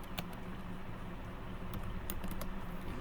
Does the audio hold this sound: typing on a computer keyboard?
yes